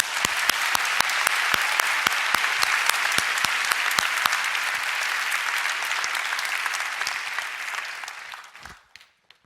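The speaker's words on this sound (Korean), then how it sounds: "박수 한번 칩시다." A church congregation at a young adults' prayer meeting claps together in a dense, sustained burst for about eight seconds before the applause fades quickly to silence.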